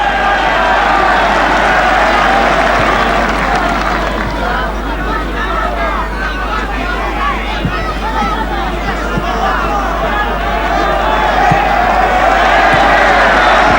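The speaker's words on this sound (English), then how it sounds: "Hugo Perez getting applause from the Argentinian fans here." A large stadium crowd of Argentinian football fans applauds Argentine player Hugo Perez during a 1995 Copa América match against Chile in Uruguay, a loud, steady wash of clapping and crowd hubbub that runs unbroken from start to finish.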